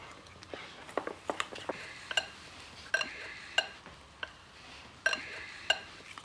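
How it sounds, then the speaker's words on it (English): A spoon mixing orange zest into a frangipane of almond flour, sugar, butter, egg and vanilla in a bowl, giving faint, scattered clinks and scrapes against the dish at an irregular pace. "Get yourself a spoon and have a little mix up."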